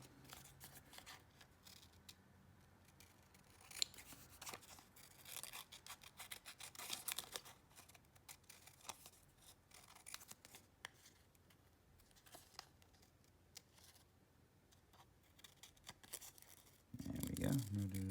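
A big pair of scissors cuts out a small, fiddly paper finger puppet, producing quiet, irregular snips and paper rustles up close, with a louder handling noise at the end.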